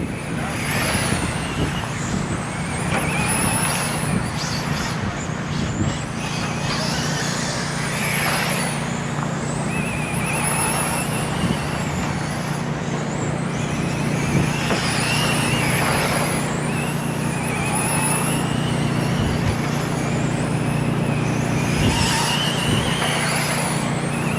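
Race cars lap the Toledo TARCAR track in a continuous engine roar that swells and fades as cars pass, under a steady drone of crowd and track noise.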